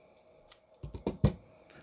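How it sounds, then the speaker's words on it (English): Scissors snipping into a folded paper snowflake, a handful of short crisp cuts in quick succession, close and fairly quiet, with no voices. "Maybe I'll get close to it, but I won't cut it all the way"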